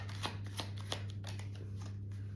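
Romance angel oracle cards being shuffled, a run of crisp riffling flicks and soft slaps repeating in quick bursts, close and fairly quiet over a steady low hum.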